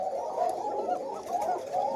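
Koka pigeon, a domestic pigeon kept at a farm, cooing steadily in a repeated rolling rhythm, close by and fairly loud, with no one talking over it.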